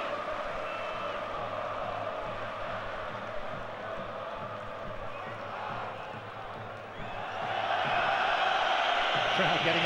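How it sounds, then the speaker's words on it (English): Football stadium crowd at a Croatia versus England match, a sustained dense roar of massed voices jeering goalkeeper David James, swelling louder near the end. "Crowd getting on James's back"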